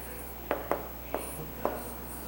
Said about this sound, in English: So now let us write the answer.